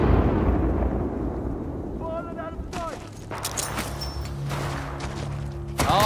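Grenade blast in Titanfall 2, a loud explosive burst opening the moment and rumbling away, followed by further sharp gunfire-like cracks and another impact near the end, with talk over the top.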